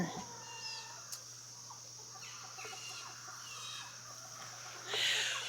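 Hens in an 8-by-8 backyard coop with a rooster, giving soft scattered clucks and short calls at a distance over a steady low hum, with one louder squawk near the end.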